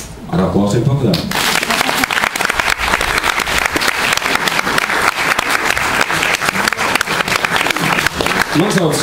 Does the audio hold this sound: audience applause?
yes